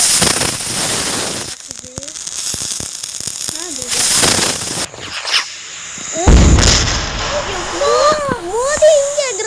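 Nebula firecrackers bursting during Diwali celebrations, several sharp loud bangs with crackling and whistling bursts between them, mixed with children's voices and talk nearby.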